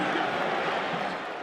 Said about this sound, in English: Crowd groans a little bit.